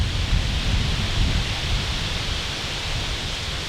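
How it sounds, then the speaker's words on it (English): Strong wind roars and buffets the microphone in a continuous broad rush, low gusty rumble throughout with no voices. "it's awful windy"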